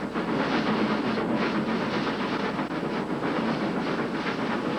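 A rack railway locomotive with a cogwheel climbs a steep mountain grade, giving a steady, close mechanical rumble with a faint rhythmic clatter and no voices.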